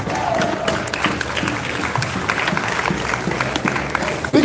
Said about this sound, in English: Give a hand clap for yourselves.